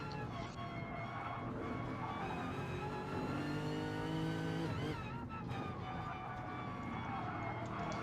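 A Porsche race car in a sim racing league event howls at high revs, its engine note rising and falling through gear changes, steady and fairly faint under the background din with a voice mixed in.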